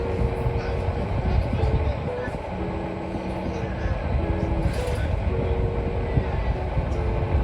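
Steady low rumble of a moving train carriage on the way to Venice, with faint mechanical hums and rattles, continuous throughout, with muffled voices in the background.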